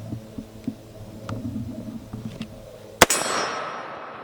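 A single Desert Eagle .50 AE handgun shot cracks out sharply and loudly, followed by a brief decaying boom after a stretch of low background rumble.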